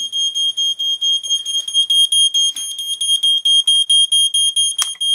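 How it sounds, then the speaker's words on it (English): A homemade water heater leak alarm built from a smoke detector beeps loudly and rapidly in a continuous piercing rhythm, close and alone with no voices. "This is my do-it-yourself water heater alarm. It's made from a smoke detector"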